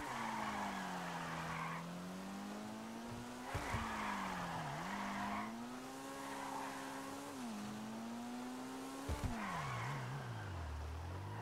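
A drift car in GTA Online revs and slides repeatedly, its engine tone rising and falling while bursts of squealing tires come and go in a steady cycle, loud and close.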